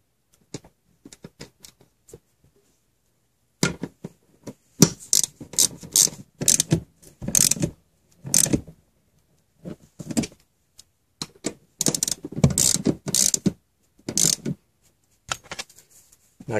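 A ratchet tightens the bolts on a car seat, giving close, crisp bursts of rapid clicking that stop and start in short runs with brief pauses between strokes.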